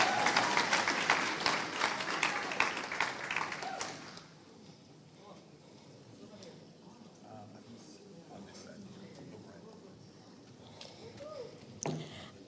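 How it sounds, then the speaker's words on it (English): Crowd applause at an award ceremony during the WFCP-CCCJ World Congress 2024 fills the first four seconds with dense, steady clapping, then cuts off into a quiet room with faint shuffling. "A round of applause, please."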